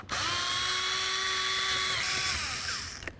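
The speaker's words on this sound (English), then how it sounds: "Now behind that, you're going to find two mounting bolts. Let's go ahead and remove the pair." A cordless power drill runs steadily for about three seconds, high-pitched and close, backing out the door handle mounting bolts on a 2006-2010 Ford Explorer, then winds down near the end.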